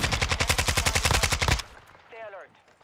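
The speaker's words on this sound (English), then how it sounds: "That's my teammate busting that gun." A teammate firing an AN-94 rifle in Warzone 2 at Vondel Park, a loud rhythmic burst of about fifteen close, evenly spaced shots that stops abruptly, followed by a faint fading tail.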